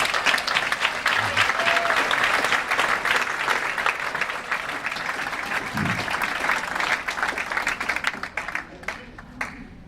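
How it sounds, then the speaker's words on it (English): A live audience at a presentation breaks into a round of applause, dense and loud clapping sustained for several seconds before thinning into scattered claps near the end. "So if you can just give me a round of applause."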